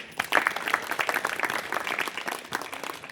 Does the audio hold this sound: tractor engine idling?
no